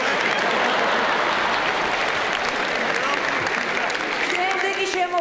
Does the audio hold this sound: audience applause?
yes